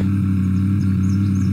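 A car engine running in the video game Unturned, a loud steady low mechanical hum with strong tonal bands and no talk.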